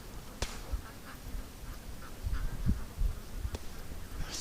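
Ducks on a lake, agitated and bunched in a tight group, give scattered faint quacks over open outdoor ambience with a few sharper calls standing out.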